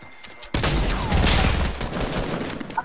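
Enemy gunfire in a video game breaks out abruptly after a brief quiet, a dense fusillade of close, loud shots from behind that rolls on continuously, with a voice talking faintly under it.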